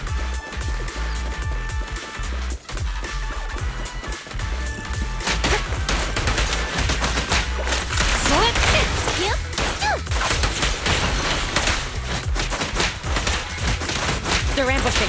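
Sustained gunfire fills a combat scene in the video game Zenless Zone Zero, with dense rapid shots, impacts and crashes running continuously and loudly while voices speak over the action.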